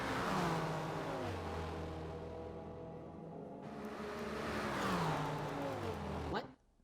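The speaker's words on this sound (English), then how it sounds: "now here comes the Merc to the inside, goes deep under braking, clears him under braking" Race cars in a Nurburgring 24-hour racing video game brake and accelerate, engines droning steadily with rising and falling pitch and one shift near the middle, under an excited commentator, before cutting off abruptly at the end.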